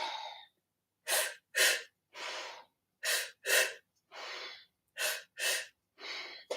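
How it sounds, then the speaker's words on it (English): Breathing exercise of repeated two-stroke cycles: two quick, sharp mouth inhales followed by one longer, softer nose exhale, repeated three times in a steady rhythm, close and clear with no talking. "we're going to inhale through the mouth, 2 breaths, exhale 1 complete exhale out the nose"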